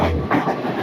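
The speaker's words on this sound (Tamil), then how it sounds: "இந்த ட்ரெயின் அப்படியே போயிட்டே இருக்காதா அப்படின்னு தோணுது" A train rolls through the forested hill country near Ella in Sri Lanka, giving a steady close rumble with a faint rhythmic clatter from inside the carriage.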